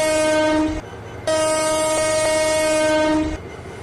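Tista Express intercity train on the Dhaka to Joydebpur line, with a loud, sustained horn blast that breaks off briefly and then resumes over low rail rumble as the train pulls away.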